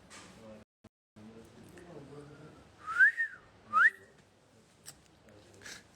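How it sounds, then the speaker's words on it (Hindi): A person whistles two short rising notes close up in the middle of a stretch of talk, with voices speaking before and after. "तो तू लोग क्यों मार रही है सीटी।"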